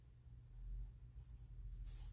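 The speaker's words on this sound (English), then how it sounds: "just little pencil scribbles." A pencil scribbling small marks on paper as part of a drawing: soft, close, continuous scratching in short irregular strokes, quiet and alone, with no talk.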